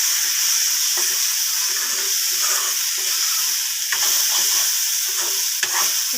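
Spice mix with a spoonful of meat masala stirred and fried in a pan for banana flower and masoor dal, a steady loud sizzle broken by repeated scraping strokes of the spoon, close up with no talking.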